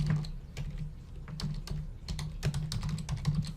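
Computer keyboard typing code, a quick irregular run of crisp key clicks at close range with brief pauses between bursts, heard alone.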